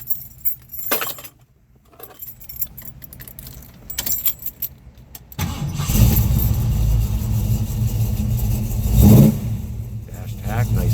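A restored 1973 Ford Mustang Mach 1 with a 351 Cleveland Cobra Jet V8 cranks and fires up after a jingle of keys, settling into a loud, steady rumbling idle with a brief rev near the end.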